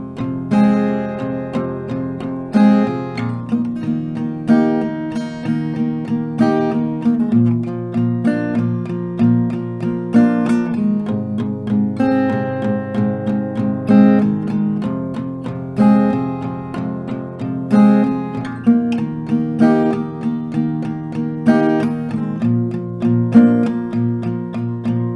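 Acoustic guitar strums the chords of a song in a steady repeating rhythm, close and alone without voices.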